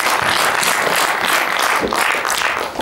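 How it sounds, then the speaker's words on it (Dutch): An audience at a Dutch starter-of-the-year award event breaks into hearty applause, dense steady clapping that holds strong and tapers slightly at the end, with no speech over it. "Groot applaus voor Claudia Saar aan Huis."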